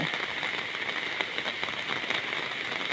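Steady rain falling outdoors during heavy rainfall, a continuous dense hiss with scattered louder drop patters, no speech.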